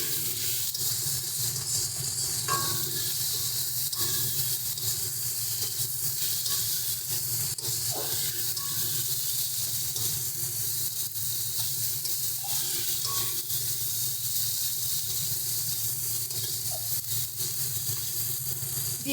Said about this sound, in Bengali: এবারে ভালো করে সমস্ত মশলাগুলোকে আলুর সঙ্গে মিশিয়ে নিচ্ছি।